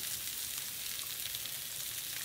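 Continuous hissing sizzle of salmon pan frying in hot oil, close and fairly quiet, with soft crackles and no voices.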